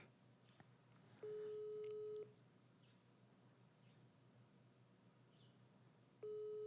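Ringback tone on a phone call to a grandparent: two steady electronic rings about a second long, separated by a pause of several seconds, quiet over faint room background.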